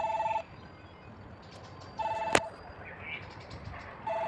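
A building intercom rings after a room number is dialed, giving two-tone electronic ring bursts in a repeating pattern with gaps between them, plus a sharp click partway through, heard fairly close in a quiet entryway.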